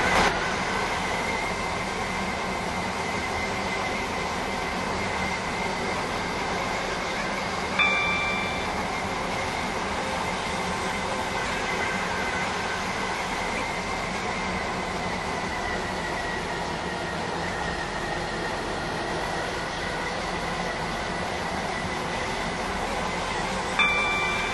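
Train rolling in the Roblox SCR rail game, a steady loud rumble and hum of the carriage under way with faint rhythmic wheel clatter and two brief chime-like tones, no voices.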